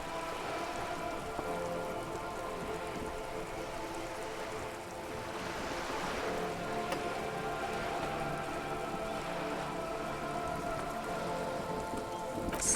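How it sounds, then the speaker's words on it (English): Rain in Disco Elysium pattering steadily on wooden boards and the surrounding water, a dense, even hiss of drops that stays loud and constant throughout, with no speech. "All around you, rain keeps falling down."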